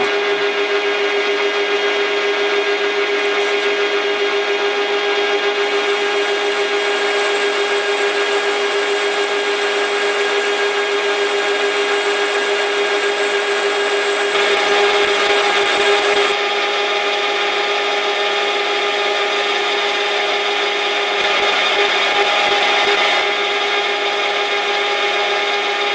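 A lathe turns a cross drilling jig while taking a cut, giving a steady loud machine hum with a faint high whine and a continuous scraping cutting tone that swells briefly twice, no talk.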